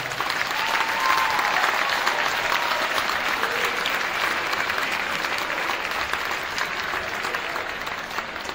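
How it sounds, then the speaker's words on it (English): Sustained crowd applause fills a high school gym at a varsity basketball game, steady loud clapping from many hands throughout with no break. "Give them one more round of applause."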